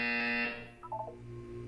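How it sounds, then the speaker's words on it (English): Buzzer in the Portal 2 video game, a single loud harsh electronic buzz lasting about half a second, then fading into a few soft electronic tones over low background hum. "You will hear a buzzer."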